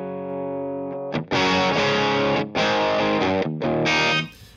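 Electric guitar played through an Orange amp model in AmpliTube 5 with overdrive, heard as loud, distorted sustained chords that break off briefly a few times and then ring out again.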